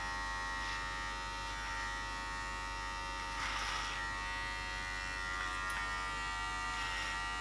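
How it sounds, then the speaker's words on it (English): An inexpensive Kmart Home & Co electric hair clipper buzzes steadily with a strained, uneven whine, its motor bogging slightly at moments as it works through a thick beard, close up and alone. "they don't sound well cutting a beard"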